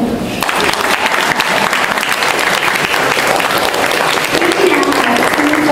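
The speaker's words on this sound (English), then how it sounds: "And you all can clap for that." Children and an audience at a summer kids' culture camp festival clap together in steady, dense applause that fills the room from start to finish, with a voice or two faintly audible beneath the clapping.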